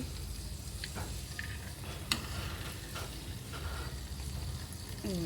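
Homemade herbal hair oil simmering in a pan, with a continuous low bubbling sizzle and occasional light utensil clicks. It sounds close and steady, and no one speaks.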